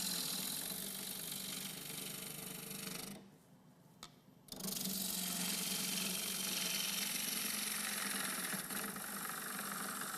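A wood lathe gouge sweeps through the corner of a round wooden blank, giving a steady rough rubbing whir with a brief quieter gap midway before the cutting resumes at the same level.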